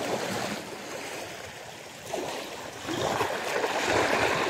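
Rough, choppy sea around a small fishing boat on a windy day, with waves slapping and washing against the hull in uneven surges, close and fairly loud, no voices.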